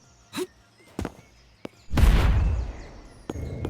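Explosions in the video game Gang War Pixel Shooters: a few short pops and bangs, then one big blast with a long rumbling tail, and a final sharp burst.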